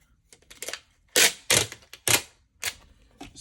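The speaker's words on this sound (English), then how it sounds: "What I'm going to do is tape this down to the surface." Adhesive tape is pulled off the roll and pressed down to fix a stainless steel flat to a work surface: a few loud, harsh ripping bursts close by, with short gaps and softer rustling between them.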